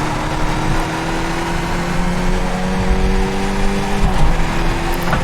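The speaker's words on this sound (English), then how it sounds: "Tyre squealing the entire way around that corner." Race car tyres squeal continuously through a corner at Summit Point Raceway in the iRacing simulator, over a loud, sustained engine drone that dips near the end.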